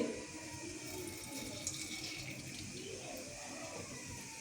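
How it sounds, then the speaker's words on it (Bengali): Mustard seeds sizzle in a small amount of hot white oil for a tempering while idli sambar is cooked at home, making a steady close hiss and crackle with no talking. "এবার এর মধ্যে আমি সর্ষে দিয়ে দেবো অল্প করে।"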